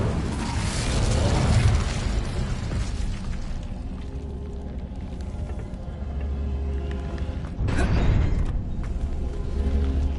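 The Incendio fire spell cast in Hogwarts Legacy, a loud roaring whoosh of flame at the start, then a sharp burst near eight seconds followed by more rushing fire, close and full.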